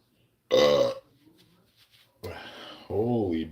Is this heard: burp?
yes